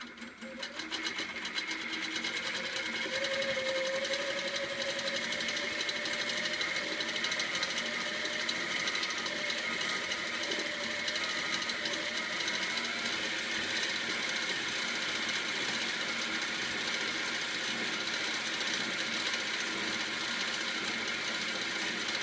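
A Sweet 16 quilting sewing machine with a couching foot stitches yarn onto a quilt, its motor humming and needle buzzing in a steady, fast, continuous whir that stays even throughout.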